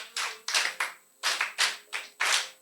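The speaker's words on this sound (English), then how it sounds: "let's give them 3 factorial clap" Workshop participants in a Kenyan fishing and aquaculture training session clap in unison, a rhythmic pattern of sharp group claps with short pauses between bursts, loud and close.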